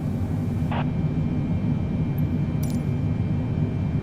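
An airliner on final approach to land hums with a steady, loud low-pitched engine drone and constant rushing air noise throughout, broken only by a couple of faint brief clicks.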